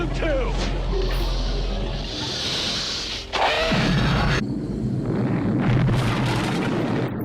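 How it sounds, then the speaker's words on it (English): Loud booming practical explosions and crashing rumble from the 1982 film The Thing fill the scene, with a sharp burst midway and sustained roaring debris noise, voices reacting underneath. "Practical explosions, man."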